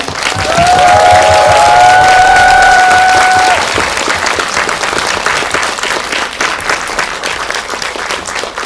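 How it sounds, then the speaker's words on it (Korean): An indie cinema audience applauds as filmmakers and cast are welcomed for a post-screening talk, loud dense clapping with a few cheers early on, holding steady then easing slightly toward the end. "큰 박수 부탁드릴게요"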